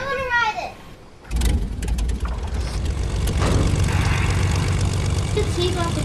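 A Fortnite airplane engine drones steadily, loud and close, under the chatter of a voice, following a brief lull.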